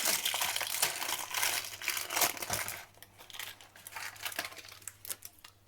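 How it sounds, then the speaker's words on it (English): Baking paper around a freshly baked Basque cheesecake crinkles and crackles as it is spread out, a dense, close rustle for several seconds that thins into sparser crackles, heard alone. "I'll just spread this one's paper out."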